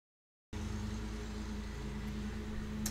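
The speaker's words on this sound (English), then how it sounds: "Actually, I think this is a lawnmower mostly." A lawnmower drones steadily in the distance, a faint low hum with no change in pitch that starts abruptly and holds under the quiet background of a vocal recording.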